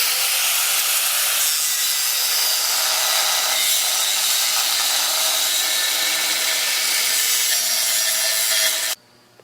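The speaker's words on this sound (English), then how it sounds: "Very first step in welding the shaft onto the factory hitch is to cut the piece of metal, the shaft, off the factory hitch." A power tool cuts a metal shaft off a factory trailer hitch, giving a loud, harsh, continuous grinding hiss close by that runs steadily and then stops abruptly.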